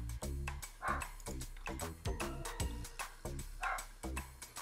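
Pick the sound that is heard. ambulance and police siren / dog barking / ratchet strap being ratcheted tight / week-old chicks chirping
dog barking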